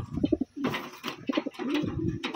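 Pigeons of Taiwan breed kept in a loft cooing up close, repeated low throaty coos in short bursts with wing flutters and rustling between calls.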